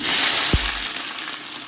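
Garlic, onion and small shrimp frying together in a home kitchen pan for a Bangladeshi hilsa curry meal, a steady close sizzle with a brief thud partway through.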